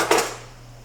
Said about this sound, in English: So I'm going to go ahead and just get a whisk out.